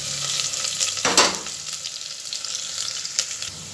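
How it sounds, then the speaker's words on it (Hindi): Onions fry in hot oil with cumin and asafoetida for a green pea masala dal, giving a steady close sizzle with one louder stirring burst early on and lighter crackles after. "प्याज डालने के बाद हल्का सा भून लीजिए"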